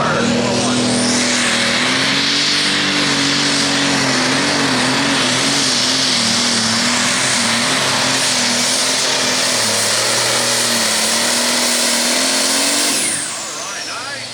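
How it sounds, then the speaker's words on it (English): Diesel pulling tractor from South Dakota making a full run at an 8,500 lb class truck and tractor pull in Hillsboro, Wisconsin: a loud, sustained engine roar with a wavering droning pitch that cuts off abruptly near the end, with an announcer talking over it. "nice run for that tractor out of South Dakota here this afternoon"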